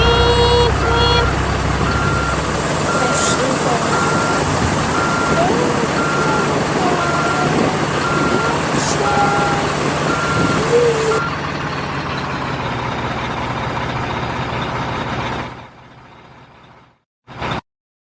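Steady, evenly spaced reversing beeps from a toy truck ring out over a continuous mechanical whirr that runs loud for most of the stretch, then drops lower and fades near the end.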